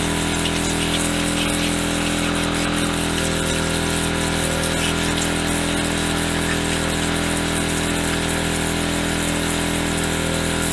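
A pressure washer pump drones continuously and loudly, its engine hum mixed with the hiss of spraying water, steady from start to finish with no pauses.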